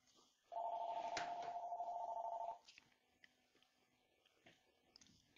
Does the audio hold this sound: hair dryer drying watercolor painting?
no